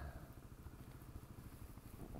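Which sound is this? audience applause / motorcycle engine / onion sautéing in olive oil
motorcycle engine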